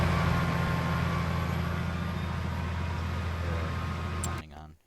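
Tractor engine idling in a farming video game, a steady loud low rumble that holds for about four seconds and then cuts out abruptly.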